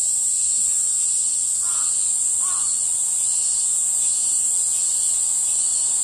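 Cicadas sing in a continuous, steady high-pitched drone that fills the whole stretch at even loudness, with a couple of faint distant calls underneath.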